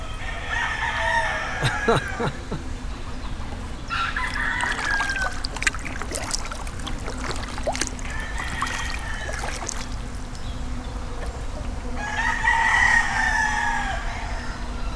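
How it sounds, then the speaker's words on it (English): Several roosters crow repeatedly at a distance from a riverside property, their calls rising over a steady outdoor background of river water and low hum. "Sounds like a rooster farm up there."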